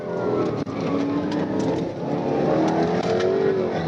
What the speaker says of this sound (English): The gray Challenger tried its best. Wrong lane, wide throttle.